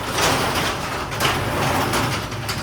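A sticking garage door is lifted open by hand and rolls along its tracks with a steady, continuous rumbling slide, fairly close and loud, with no talk over it.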